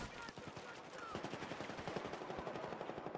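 Rapid automatic gunfire bursts from a first-person shooter video game, dense repeated shots filling the clip over a steady game soundscape.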